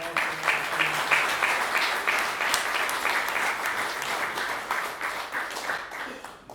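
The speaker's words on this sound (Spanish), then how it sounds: "Un aplauso para nuestros tres panelistas" Audience applause for three panelists at a magazine launch event, a sustained crowd clapping with a few louder individual claps standing out, tapering slightly at the close.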